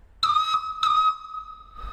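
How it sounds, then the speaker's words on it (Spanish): Two long blasts of a train whistle with a clear, bright tone, each held about a third of a second, followed by a fainter third blast after a pause; no talking. "Esto es el silbato"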